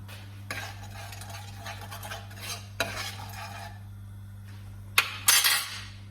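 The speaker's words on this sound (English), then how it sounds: "Right, we're going to let that simmer for a couple of minutes." Sauce with chickpeas and tomatoes simmering in a pan, a low steady bubbling under scraping stir strokes, with a spoon clinking against the pan and a brighter burst of sizzling near the end.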